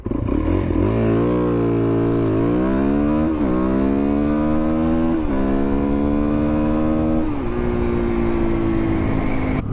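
A Suzuki DRZ400SM motorcycle accelerating hard in first gear from a launch, the engine note climbing repeatedly with brief dips between pulls, loud and near throughout, no voices.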